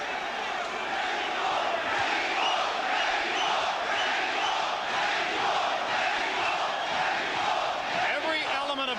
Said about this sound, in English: Every element of crowd noise you hear, the chants, the cheers, the spontaneous eruptions, will all be for El Terrible Erik Morales.